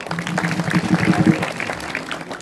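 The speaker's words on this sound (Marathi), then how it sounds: "तरुण पोरासाठी टाळ्या वाजवा बा" Audience clapping at a kirtan, a devotional singing-and-preaching gathering, with dense applause that swells in the middle and fades, mixed with a voice.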